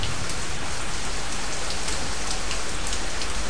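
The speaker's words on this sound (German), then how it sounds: "denn es regnet ja hier immer noch" Steady, dense rainfall in the survival video game Zafehouse: Diaries, an even hiss of falling rain that holds unchanged throughout with no voices.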